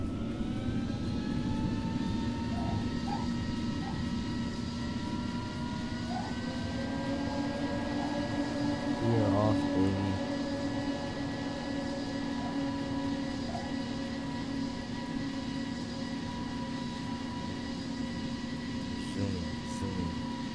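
A steady, loud drone from the running jet engines of an Airbus A350-900 in the Project Flight game, continuous and unchanging with a slight tonal swell partway through.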